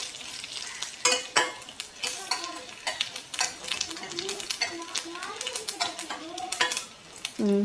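Ingredients, including a chilli, sizzle and crackle in a pan for a raw mango jaggery curry, with steady frying hiss and occasional utensil scrapes and clinks close by, and faint talk beneath.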